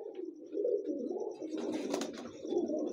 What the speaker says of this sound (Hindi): संभल वाले कबूतर वो भी हम देख रहे हैं गुजरात में